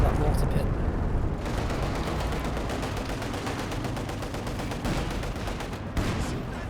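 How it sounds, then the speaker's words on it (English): Rapid ZiS gun and artillery fire from a WWII strategy video game rattles almost without pause, a dense, loud barrage of overlapping shots with a commentator's voice running underneath. "this is really good hits from the Zis gun there"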